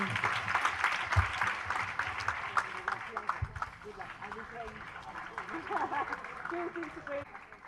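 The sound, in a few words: audience applause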